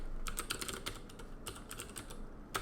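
Rapid typing on a computer keyboard, a quick irregular run of crisp key clicks close to the microphone with brief pauses, quiet and without talk, during a programming lesson.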